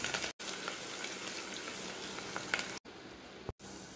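Onion and green chili pieces sizzle in hot oil over a tempering of dried red chili for tomato rasam, a soft continuous frying crackle close by, interrupted by a few short dropouts.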